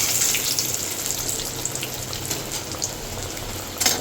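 Bay leaves hit hot oil for a mutton curry, giving a steady close sizzle and crackle with a sharper pop near the end.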